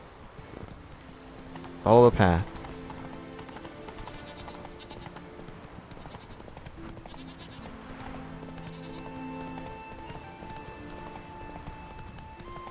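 Horse hooves clip-clop in a steady rhythm throughout in the video game The Witcher 3, with a loud burst near the start and a voice speaking briefly over them.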